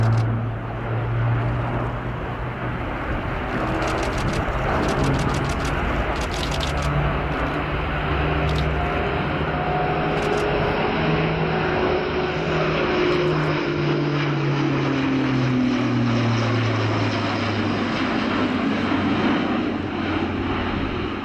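Airbus A400M Atlas turboprop military transport aircraft performing a flying display at an airshow, a loud continuous propeller drone with a slowly shifting pitch as it passes, heard alone.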